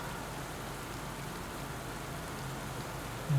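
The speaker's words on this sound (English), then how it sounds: "This rain is going to be really bad in the cobbles." Steady, even rain hisses in the cycling game Pro Cycling Manager 2020 during a wet race on cobbled roads, a constant soft wash of falling drops with no gaps or voices.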